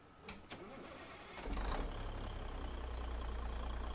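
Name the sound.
truck engine starting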